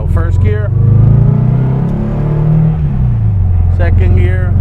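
A 1963 Porsche 356 Carrera 2 coupe on a road test, its engine pulling loud and close in first gear with a steadily climbing note, while someone talks briefly at the start and the end.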